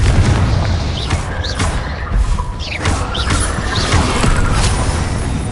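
Confringo explosive spells go off in Hogwarts Legacy combat: repeated heavy booms and crashing blasts with whooshing streaks, loud and near over a constant rumbling battle din.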